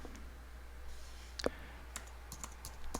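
Keystrokes on a computer keyboard, a few sparse, faint clicks spaced out over a quiet background hum, with no talking.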